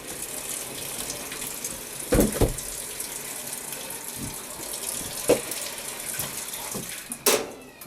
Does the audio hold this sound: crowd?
no